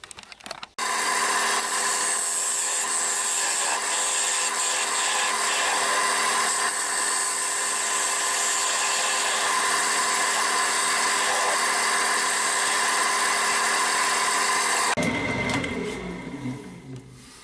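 A wood lathe turns a padauk box lid while a tool shapes it, giving a steady, loud, tonal whine with a continuous cutting hiss that runs unbroken for about fourteen seconds and then stops abruptly.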